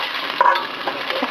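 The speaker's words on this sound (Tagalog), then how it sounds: "So, gigisa muna natin yung ating luya." Ginger sautés in about a tablespoon of hot oil, a soft steady sizzle broken by a few clinks and scrapes of a stirring utensil, close by and with no talk.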